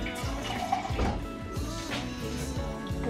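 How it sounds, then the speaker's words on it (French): A little water being poured into a pot of simmering coral lentil curry, a close, continuous splashing and bubbling wash that stays fairly loud for about three seconds, with no talking. "il faut toujours surveiller pour rajouter un petit peu d'eau au cas où."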